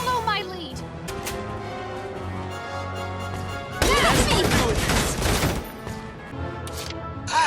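Rapid bursts of gunfire from Valkyria Chronicles 4 battle sweep through in a dense, loud volley lasting a couple of seconds, set among game music and voices speaking before and after.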